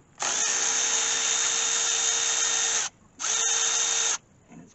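Power tool removing bolts from the starter of a 2000 series Long tractor, a loud steady whir running about two and a half seconds, a brief pause, then a second shorter burst close by.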